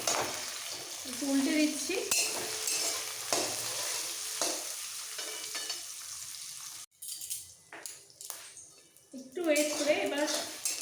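Eggs seasoned with salt and pepper frying in a pan, a steady sizzle with stirring and scraping of a utensil against the pan, while a voice talks over much of it.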